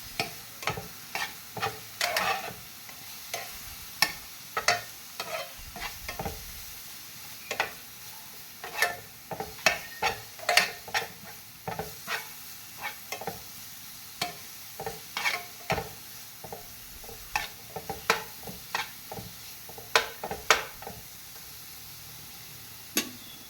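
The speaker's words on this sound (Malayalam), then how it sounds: "ഇട്ടിട്ട് നന്നായിട്ട് യോജിപ്പിച്ച് കൊടുക്കാം, നന്നായിട്ട് ഇളക്കി കൊടുക്കണം" Paneer being stirred with Kashmiri chilli powder in a pan, a steady run of light scraping and clicking spoon strokes over a faint low sizzle, close and fairly quiet throughout with no talking.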